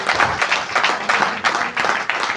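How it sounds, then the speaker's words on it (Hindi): An audience at a customer gathering claps steadily together, producing a dense, loud burst of applause with a rhythmic pulse throughout. "एक बार अपने लिए तालियां बजाएं कि आप लोग लॉयल कस्टमर हैं।"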